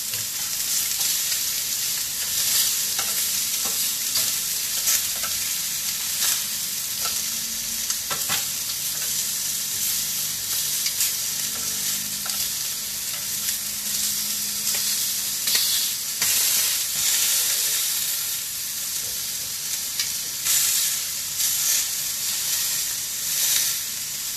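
Tandoori chicken sizzling in a grill pan, a steady loud hissing sizzle with scattered crackles and occasional utensil scrapes, close and continuous, no talk.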